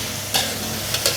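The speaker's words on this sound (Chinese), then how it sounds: "你看虾倒下去 慢慢滑这样炒一下" Prawns stir-fry in a hot wok over a steady sizzle, with a few scraping strokes of a spatula against the pan standing out close by.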